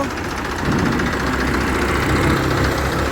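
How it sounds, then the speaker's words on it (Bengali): A trolley's engine idles with a steady, rough mid-to-low rumble and faint knocking vibration, holding an even level with no voices. "এই যে এখন স্টারটা দিল সবাই দেখবেন খুবই সুন্দর একটি সাউন্ড"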